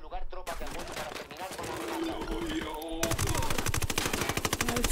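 Heavy gunfire in Ghost Recon Wildlands, with a player near a mortar under attack: dense, rapid machine-gun bursts crackle close and continuous, joined by fast rhythmic shots toward the end.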